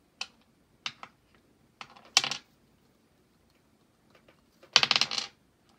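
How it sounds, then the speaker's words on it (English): Several dice are rolled and clatter onto a hard surface in sharp, close rattling bursts. Short clicks come first, then two louder tumbling rolls about three seconds apart, with quiet between them. "So I'm re-rolling 3 dice."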